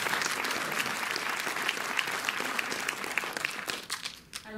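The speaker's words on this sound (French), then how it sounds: "Oui, vous pouvez l'applaudir." A hall audience claps warmly for a performer after a song and dance, a dense, sustained patter of many hands that thins slightly toward the end.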